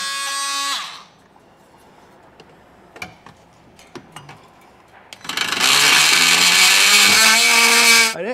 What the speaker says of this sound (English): I'm using a multi-tool here, and I'm just gonna trim this back.